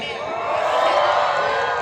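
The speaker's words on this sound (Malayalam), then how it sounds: "എല്ലാവരും നന്നായിട്ടൊന്ന് കൂവിക്കേ" A crowd at a public event in Azhikode hooting and booing loudly on request, a sustained mass of voices that swells after the first moment and holds steady.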